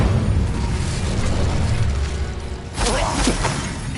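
An Incendio fire spell bursts in the Hogwarts Legacy video game: a loud whooshing, crackling blast layered over rumbling battle noise, followed by a sharper flare and pops near the end.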